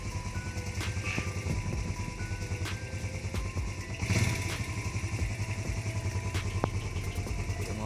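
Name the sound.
Yamaha Vega 2004 used motorcycle engine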